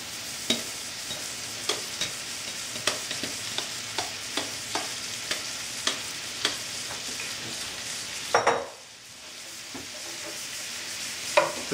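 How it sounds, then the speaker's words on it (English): Onions and celery sizzle in rendered bacon grease over medium heat, a steady frying hiss punctuated by regular scraping stirs of a utensil against the pot, close and clear with no talking. "So now I'm going to kind of mix this all around because I want all of these to get a little bit of that oil and a little bit of that bacon grease in there."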